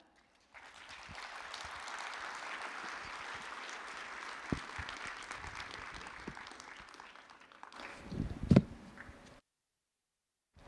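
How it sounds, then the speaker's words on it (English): Audience applause at an Internet Governance Forum session in a conference hall, greeting the pianist Ingolf Wunder: steady sustained clapping for about nine seconds, swelling slightly near the end before stopping abruptly into silence. "Please give a big applause to Ingolf Wunder."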